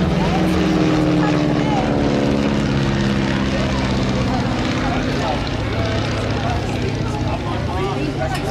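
A vintage Boeing Stearman propeller biplane drones steadily overhead at an airshow, its low engine hum shifting in pitch as it passes, loud and continuous throughout.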